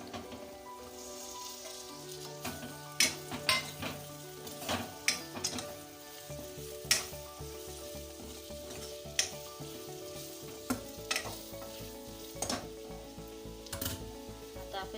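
Bitter gourd (karela) frying in masala in a pan, a steady sizzle with sharp clicks and scrapes of stirring spaced through, close and clear with no talk.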